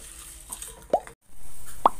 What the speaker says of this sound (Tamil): இது வெல்லம் வந்து கரைஞ்சி நல்லா கொதிக்க ஆரம்பிச்சிருச்சு.